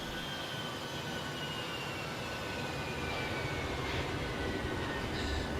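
A Boeing 737-800 flies past in a flight simulator game, a steady, broad jet engine roar with a high whine that swells slightly toward the end, heard alone without talking.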